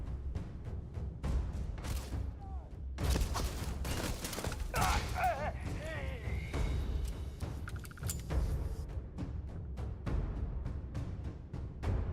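Bursts of gunfire in a firefight in the modded space game Starfield, loud repeated shots clustered densely through the middle, with talk over the clatter.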